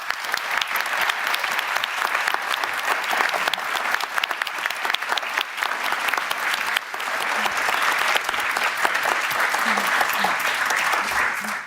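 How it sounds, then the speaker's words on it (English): A large audience applauds at an award ceremony, with sustained dense clapping filling the hall and a brief dip partway before it swells again. "Let's give them all one final round of applause."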